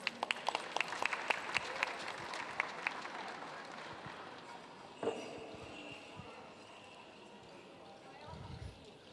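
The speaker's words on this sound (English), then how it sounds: "Let's give Madison and Malia another round of applause, y'all." Faint audience applause at a Lumbee Days cultural presentation, scattered claps that are strongest at the start and taper off, with a person talking softly underneath.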